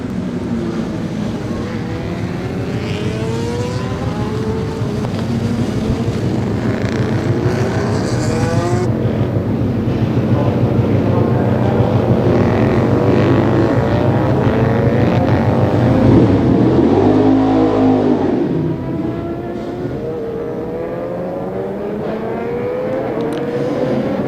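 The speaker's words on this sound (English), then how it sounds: "So Westfleet Formula One getting themselves out on their sighting lap at the moment." Formula One class racers on their sighting lap at the Greymouth street race roar past loudly, their engines swelling and fading as they go by, with a sustained engine drone and no voices.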